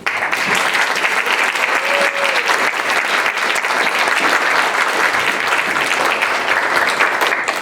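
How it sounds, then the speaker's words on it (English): Loud, sustained applause from the audience at the Leadership Medina County Celebrating Excellence in Leadership Awards, honoring the Blair Center staff. The clapping stays thick and even throughout. "A round of applause."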